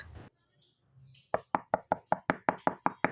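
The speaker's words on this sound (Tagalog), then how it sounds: "Sino kaya yung kumakatok?" Knocking on a door in a roleplay game: a run of about ten sharp, evenly spaced knocks, loud and close, following a brief moment of speech and a pause.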